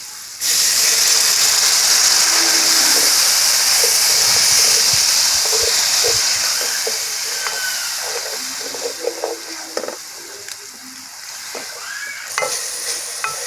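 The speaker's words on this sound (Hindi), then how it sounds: "साथ ही हम इसको थोड़ा सा पानी का छींटा भी देंगे।" Masala frying in a pan for daal mash bursts into loud sizzling and hissing steam as a splash of water hits it, a strong continuous hiss that gradually eases into softer crackling and spatter.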